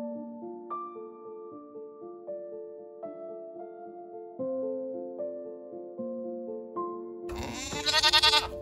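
Melodic music plays for several seconds before a goat at Ferme Odette, a goat farm on Île d'Orléans, lets out a single loud, wavering bleat near the end.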